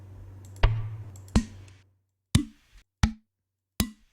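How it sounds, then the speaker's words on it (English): Five short, sharp thumps from hitting the tops of water bottles and gallon jugs, struck at uneven intervals close up. Each is a dry, percussive knock with a quick decay, and there is no talking. "I was just getting bottles and gallons of water and just hitting the tops of them to get a natural"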